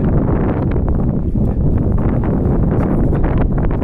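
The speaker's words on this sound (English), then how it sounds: "Too bad we got that wind" Heavy March wind buffets the microphone on a walk from Alderney Landing to Kings Wharf, in a constant low roar and rumble, with no other sounds distinguishable.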